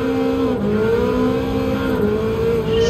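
Ferrari F8 Tributo engine in Gran Turismo 7 at a race start, a steady loud droning rev with a slight pitch dip as it shifts, sustained and close with no talking.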